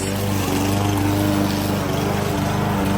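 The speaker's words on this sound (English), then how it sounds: "So we are mowing down the peas and the weeds." A lawn mower cuts down pea plants and weeds in a garden bed, its engine running steadily and loudly up close with a constant droning hum and no talking.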